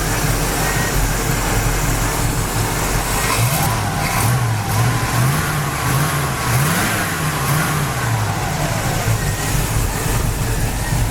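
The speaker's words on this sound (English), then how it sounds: "The engine sounds great." A 1967 Pontiac Firebird convertible's 400 V8 with chrome valve covers runs loud and steady close by, its low rumble rising and falling through several throttle blips and revs across the whole stretch.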